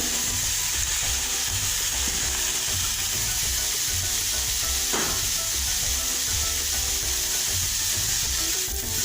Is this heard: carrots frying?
yes